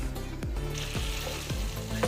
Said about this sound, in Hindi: अच्छी सी इस वक्त भुनाई करनी है